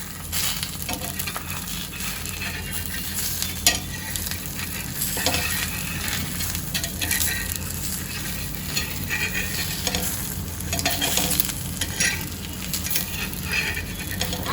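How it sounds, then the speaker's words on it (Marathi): Steady sizzling of an egg frying on one side over low heat on a hot griddle, with occasional scraping and clinking from a utensil against the pan. "हाफ फ्राय अंड्याला मी तव्यावर पाच मिनिटापर्यंत चांगलं तळून घेईल एका साईडनीच"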